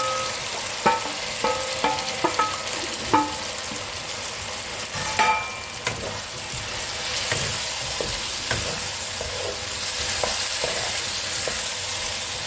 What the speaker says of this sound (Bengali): এবার আমি এর মধ্যে ভেজে রাখা আলুগুলো দিয়ে দেবো